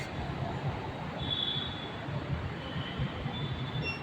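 A metro train in Pune gives a steady low rumble with faint squeals of wheels on rails, heard at moderate distance inside a station.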